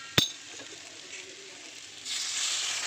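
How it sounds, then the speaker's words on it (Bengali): A sharp clink of a utensil opens, then a soft sizzle of sautéing food swells into louder, hissing bubbling as hot water is added to the pan. "হালকা করে গরম জল দিয়ে দিয়ে কষাতে থাকবো"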